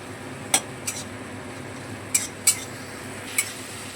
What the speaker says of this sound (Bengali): সমস্ত মশলাগুলো খুব ভালোভাবে নেড়ে চেড়ে নিচ্ছি।